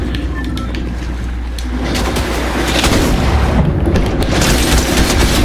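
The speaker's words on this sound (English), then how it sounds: "There's someone shooting, I think." Gunfire in a Fortnite Chapter 3 Season 4 match: loud, dense bursts of shots and booming impacts that run almost continuously and grow heavier toward the end.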